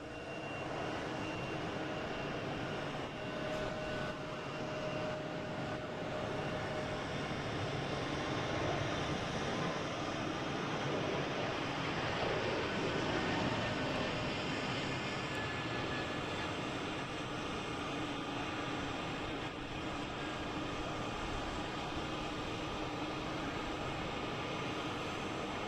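A JetBlue airliner takes off, a broad, steady roar of jet engines that holds for the whole stretch and swells slightly in the middle, heard from a distance.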